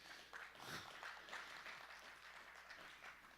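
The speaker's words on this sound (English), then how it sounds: "yeah, it was a golf clap" A class audience gives a weak golf clap: sparse, light hand claps, faint and somewhat distant, trickling through a quiet room for a few seconds.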